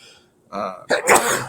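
One sneeze, a quick sharp intake of breath and then an explosive burst, heard up close and on its own.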